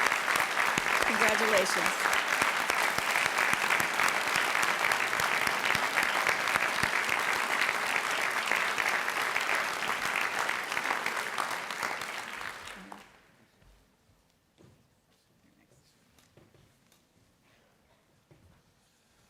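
At a fall convocation, an audience gives sustained, loud applause for promoted faculty for about thirteen seconds before it fades abruptly into near silence, with a brief spoken word near the start.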